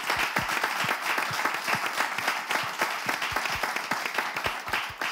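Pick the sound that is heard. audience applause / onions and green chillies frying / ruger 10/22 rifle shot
audience applause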